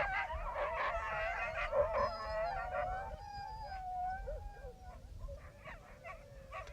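Husky and related sled dogs at a sled dog championship in Bavaria, howling and baying together in drawn-out wavering calls over a busy outdoor crowd, loud and fairly near throughout.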